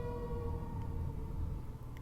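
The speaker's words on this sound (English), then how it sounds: "there's sirens going on outside my office" A steady, wailing siren sounds from outside an office, muffled as if through walls, over a low background hum.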